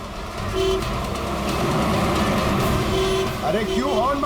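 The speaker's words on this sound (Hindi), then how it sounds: "अरे क्यों हॉर्न मार रहा है?" A vehicle horn sounds in short bursts amid busy traffic noise, with someone talking over the engine rumble.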